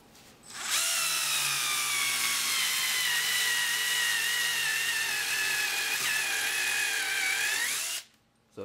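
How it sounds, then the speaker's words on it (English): A Black & Decker Gyro electric screwdriver drives a screw into a pilot hole in particle board, giving one sustained high motor whine for about seven seconds that sags slightly near the end before cutting off, close and alone. "I'm going to put these screws in using the Black & Decker gyro."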